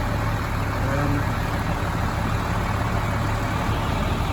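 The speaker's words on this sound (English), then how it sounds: "Lisa is in my tractor loading bales with the loader" A Case tractor loading hay bales with its front loader, a steady low engine drone that holds constant throughout, heard from nearby without talk.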